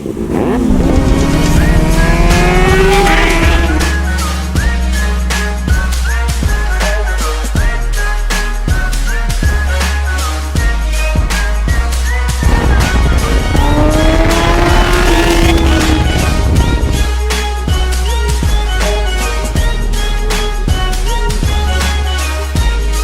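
A 2023 Kawasaki ZX6R sport bike, loud and close, with its engine and exhaust revving in rising and falling sweeps, and a second sustained roar building again midway through.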